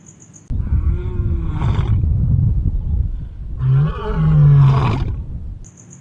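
A lion roars loudly and close by in two long, deep, rumbling bursts, ending in lower grunting tones.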